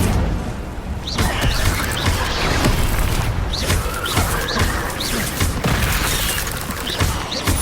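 The Incendio fire spell is cast in Hogwarts Legacy amid loud, busy combat, with repeated booming bursts, crashes and whooshing impacts piling up rapidly.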